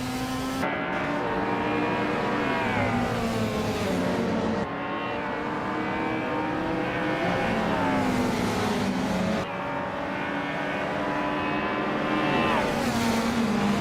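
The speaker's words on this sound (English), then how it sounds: "Gina Jones is driving a 1988 Porsche 944 Turbo" A 1988 Porsche 944 Turbo engine in a racing video game, sustained steady drone with rising and falling pitch as the car shifts through gears, no talk over it.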